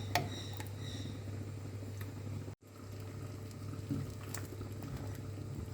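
Full cream milk mixed with condensed milk boils in a pot, a faint steady bubbling with soft ticking pops and a low hum, interrupted by a brief dropout midway.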